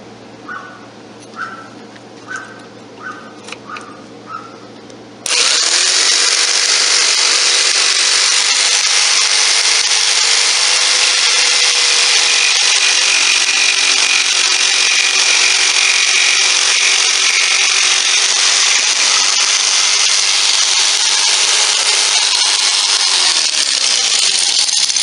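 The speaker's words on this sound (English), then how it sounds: "let me get this turned over and see if I can cut that handle off" A power saw cuts the handle off a wooden kitchen utensil, a few soft knocks first, then a loud, sustained whine of the blade biting through the wood, held close and unbroken for about twenty seconds.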